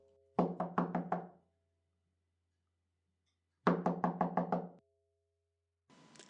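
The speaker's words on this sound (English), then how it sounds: "there's a knock at the front door." Someone knocks at a front door: a quick burst of about six sharp raps, a few seconds of silence, then a second burst of about six, close and clear, with a faint sound starting at the end.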